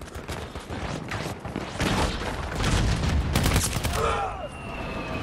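Gunfire and blasts in a shooter video game with tanks and rockets: dense, overlapping bursts of shots and booms across the whole stretch, loud and busy, with faint talk mixed in.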